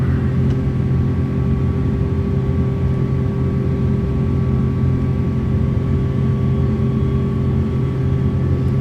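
Rolls-Royce engines of a Virgin Airbus A330 climbing out of Manchester, a steady, loud, low rumbling drone with a constant tonal hum that never lets up.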